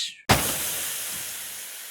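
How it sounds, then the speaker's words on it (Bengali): A vehicle tire bursts in a video game: an abrupt loud pop, then a broad steady hiss of escaping air that slowly fades, close and with no talking. "একটা টায়ার পাংচার হয়ে গেছে।"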